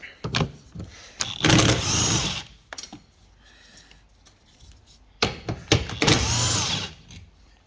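A deep socket undoes 12mm bolts on the roof bar of a Toyota MR2 Roadster, heard as two loud bursts of close, rapid mechanical clattering separated by lighter taps and clicks.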